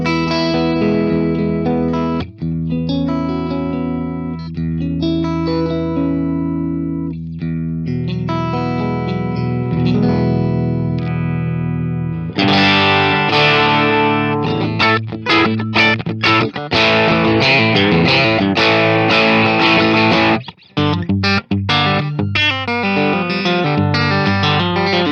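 An electric guitar through an overdrive pedal plays a clean-ish arpeggiated passage, then switches to loud, gritty distorted chords with sharp stops.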